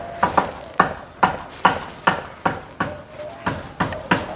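Eggplant bharta being hand-mixed with chopped tomato, green chili, garlic cloves, fried dried red chilies and salt gives about ten steady, rhythmic squelching presses and squishes, close by and moderately loud.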